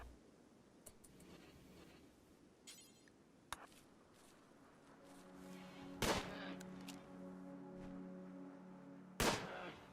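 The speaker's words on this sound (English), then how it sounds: "that bear's taking a lot of shots here" Gunshots fired at a bear in the video game Rimworld, a few sharp isolated cracks over a steady game background, two standing out louder near the middle and end.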